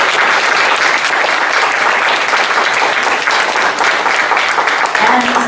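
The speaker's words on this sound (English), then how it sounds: "Let's give them a big round of applause" Audience at an author reading in North Vancouver breaks into a big round of applause, loud, continuous, thick clapping throughout, with a faint voice emerging near the end.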